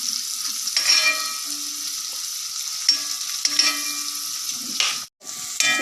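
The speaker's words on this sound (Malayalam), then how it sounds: "ഈ സവാള നല്ലോണം വഴറ്റി കൊടുക്കണം കേട്ടോ" Onions sauté with salt in a pan, giving a soft, close sizzle broken by repeated stirring scrapes and clinks, with one brief pause near the end before the sizzle returns.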